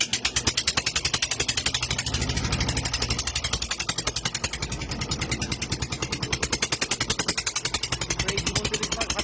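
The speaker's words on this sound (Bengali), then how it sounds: "তো নৌকা আমাদের স্টার্ট দেওয়া হলো" A small wooden fishing boat's motor, out netting hilsa on the river, chugs in a steady rapid rhythmic putter close by, loud and continuous with faint voices in the background.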